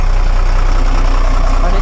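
Diesel engine just restarted after a fuel filter change, idling with a steady low throb and even mechanical clatter, close and loud, running alone without speech.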